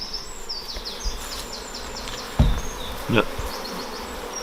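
Honey bees buzz steadily around an open hive during a colony inspection, a dense continuous insect drone with higher whining passes, broken by a few sharp nearby knocks and one brief spoken word.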